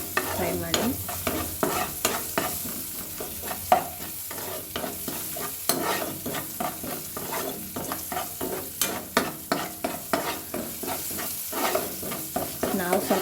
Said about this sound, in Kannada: ಆಮೇಲೆ ಚಿಟಿಗೆ ಅರಿಶಿನ, ಚೆನ್ನಾಗಿ ಫ್ರೈ ಮಾಡಿ.